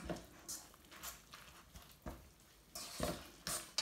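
A spoon stirs a zucchini and fish mixture in a pan, giving soft scraping strokes and light clinks that repeat about every half second at close range, with no voices.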